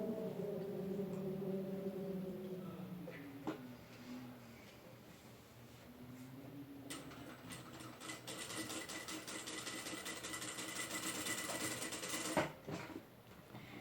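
A sewing machine stitching fabric for an Easter bunny body, first a hum of the motor, then a sustained fast mechanical rattle of stitching, heard close and fairly quiet.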